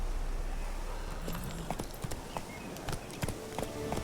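Roach, a horse in a video game, gallops with quick, irregular clip-clop hoofbeats at close range over a steady background rumble.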